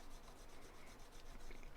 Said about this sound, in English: we'll go to some emery cloth, which is a much finer abrasive, and pre-polish the inside face